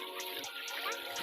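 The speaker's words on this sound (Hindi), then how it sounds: "ऊपर से बारिश भी हो रही है" Steady rain falls on floodwater in a flooded village along the Rapti river at Balrampur, a continuous wet hiss with soft splashing, close and even throughout.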